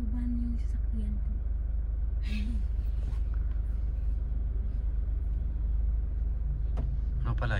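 A car engine rumbles low and steady as a service vehicle arrives, the rumble continuous through the clip under a person talking.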